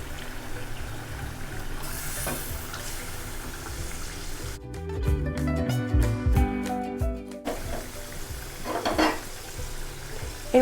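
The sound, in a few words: poa fish frying in spice masala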